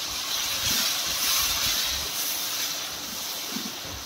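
Chopped tomatoes hit hot oil with turmeric, coriander and chili for a chole matar sabzi, producing a loud, continuous hissing sizzle close up with a few faint low knocks underneath.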